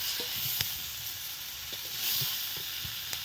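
Potato and taro pieces sizzle in hot oil with a soft, steady hiss. Now and then a utensil clicks or taps in the pan as they are stirred, and there is no talking.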